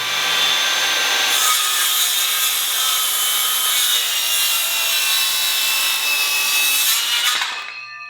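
A Makita sub-compact 6.5-inch circular saw cuts through wood with a loud, close, steady high whine lasting about seven seconds before spinning down at the end, with no talking.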